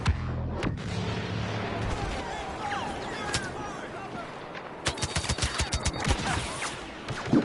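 Rapid bursts of turret gunfire in Star Wars Battlefront on the Scarif map, loud and close, with a denser volley of repeated blasts near the end amid battle noise.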